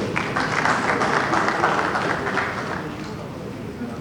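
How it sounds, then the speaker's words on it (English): Round of applause at a ceremony where Anambra governorship candidates sign a peace accord, moderate steady clapping from a gathered crowd with a voice speaking over it. "A round of applause, please"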